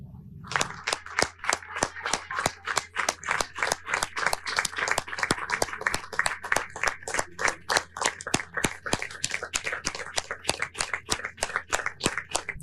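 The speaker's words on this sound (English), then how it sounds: "He kept clapping after Donald Trump left the room." A lone man keeps clapping in a room after Donald Trump has left, producing steady, evenly spaced claps that run for the whole stretch, loud and close with no talk.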